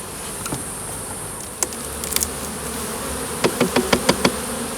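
Honey bees buzz around a hive in a steady hum, with a series of short, sharp taps clustering toward the end.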